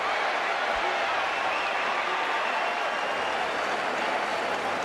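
A boxing arena crowd at the Floyd Mayweather vs Manny Pacquiao title fight gives off a steady, dense roar that fills the whole stretch without letting up.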